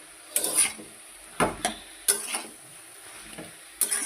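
A spatula stirs vegetables and spices in a hot frying pan, producing four separate bursts of scraping and sizzling, each fading before the next, with quiet gaps in between.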